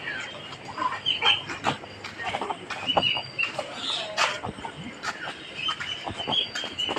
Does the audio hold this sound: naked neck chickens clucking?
yes